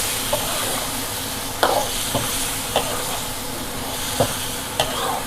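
Shrimp stir-fried in red curry paste, a steady loud sizzle with a spatula scraping and clacking against the pan every second or so, no voices.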